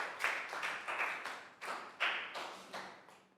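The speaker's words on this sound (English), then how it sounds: "Big round of applause for Prel" A small classroom group claps for a pupil, a short burst of uneven hand claps with several distinct sharp slaps over about three seconds, fairly close and moderately loud, with no talking over it.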